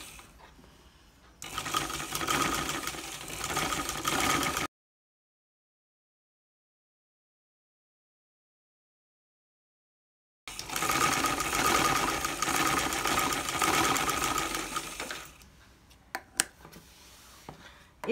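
A sewing machine runs in steady bursts while stitching a kameez neck zip, with a loud continuous whirring run, a full stop, then another long run that trails off into a few faint clicks.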